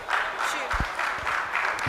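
An audience at a tech conference panel session gives brief, steady applause, a mid-level patter of many hands clapping with faint voices underneath.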